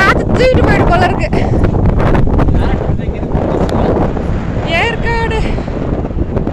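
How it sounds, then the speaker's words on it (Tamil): Strong wind buffets the microphone at a hilltop sky park in Yercaud, a loud, constant low roar throughout, with people talking and calling out over it. "காத்து தூக்கிட்டு போயிட்டு போல இருக்கு."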